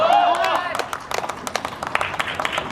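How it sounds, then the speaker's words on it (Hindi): An audience claps along to a devotional song about Ram at a poetry recital, with quick, scattered claps under singing and a falling voice line at the start. "तालियां बजाएं"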